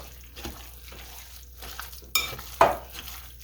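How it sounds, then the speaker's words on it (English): A whisk works through sweet and sour meatball sauce, giving soft swishing strokes with a couple of sharper clinks against the pot, quiet and close. "see how this is coming together so nicely with this whisk?"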